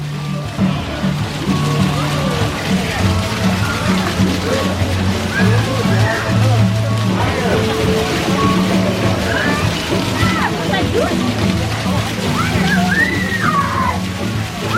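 Water splashes and sloshes at the Moana Journey of Water attraction, with flowing, spattering sounds continuing amid crowd chatter and excited voices.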